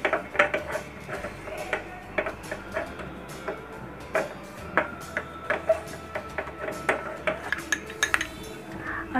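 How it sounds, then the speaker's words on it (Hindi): A utensil stirs and mixes mashed potato masala in a pan over low flame, with irregular clinks and scrapes against the metal, close and moderately loud, with no talking. "मैश किए आलू को भी मसाले में अच्छे से मिक्स कर लेंगे, उनको लो फ्लेम पे अच्छे से भून लेंगे।"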